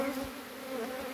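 Honeybees buzzing inside an open hive box, a dense, steady drone heard close and without talk.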